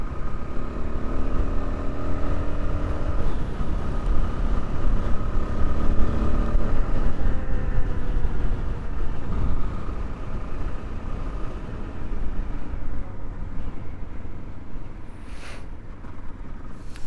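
Knobby tires, an MT21 front and Tusk D Sport rear, droning on a Suzuki DR-Z400 while riding, a steady loud road roar with engine rumble underneath throughout.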